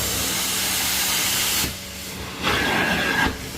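Steam hissing in strong bursts from a carpet cleaning truck mount, a loud broadband rush that drops away briefly twice before surging back, with no talk.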